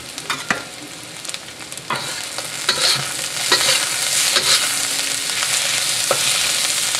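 Rice and smoked bacon sizzle in a pan as a spatula stirs them, with sharp scraping strokes over a continuous frying hiss that grows louder, heard up close with no voices.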